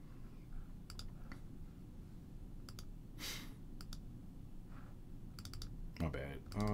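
Mouse clicks on a computer during a Logic Pro session, a few sharp clicks and a quick double click spread over steady low background noise, with a burst of busier clicking near the end.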